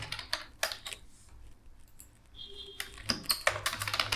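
Computer keys clatter in short, uneven bursts of typing with brief pauses between words, recorded close up with no talk.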